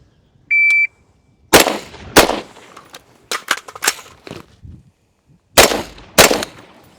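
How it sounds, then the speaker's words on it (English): Sharp gunshots fired from a barricade during a SWAT firearms qualification, heard as a pair, a rapid cluster, then another pair, loud and close after a short electronic start beep. "Barricade, reload, fire 2 rounds, left side, 12 seconds"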